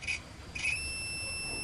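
A multimeter continuity tester gives two short, high-pitched electronic beeps, then a sustained steady tone that holds to the end, sharp and close with no talking.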